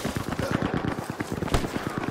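Rapid automatic gunfire in a first-person shooter video game rattles as an even stream of sharp reports, about eight shots per second, fairly loud with no talking over it.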